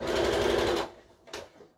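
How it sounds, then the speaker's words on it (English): Sewing machine stitching the lining of a fabric bottle holder, one loud steady burst that stops abruptly, followed by a short quiet rustle of the fabric being repositioned. "I'm just sewing a little bit"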